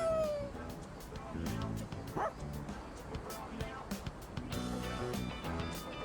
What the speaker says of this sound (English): It's a stray dog that chased the boy around a little while ago.